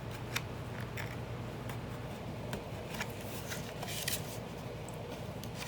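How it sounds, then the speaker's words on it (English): Scissors cut through an old book's binding at the staples, giving a dense run of crisp snips and papery rustling close by, steady and without speech. "So I'm pulling it back as much as I can, and then I'll cut it where the staples are."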